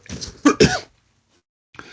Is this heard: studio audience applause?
no